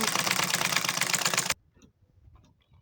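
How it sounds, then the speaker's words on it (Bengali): Sewing machine stitching the neckline of a kameez, a loud steady rapid mechanical whir for about a second and a half that stops abruptly, followed by faint handling noises. "একইভাবে আর একটা সেলাই দিয়ে নিলাম গলা।"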